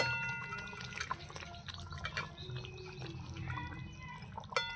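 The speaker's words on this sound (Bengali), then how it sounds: "এবার ঝোলের মধ্যে মাছগুলো চুবিয়ে চুবিয়ে দেবো, ঝোলটা ভালো ঢুকবে মাছে।" Fish dipped repeatedly into simmering gravy in a pan, heard as soft liquid drips and light splashes over a low steady bubbling, close and fairly quiet with no speech.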